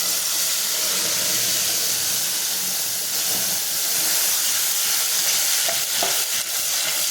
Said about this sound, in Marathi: कांदा टोमॅटो मिरचीचं जे वाटण करून घेतलेलं आहे ते टाकून आपल्याला परतून घ्यायचं आहे